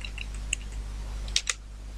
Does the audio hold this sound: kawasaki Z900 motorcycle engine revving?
no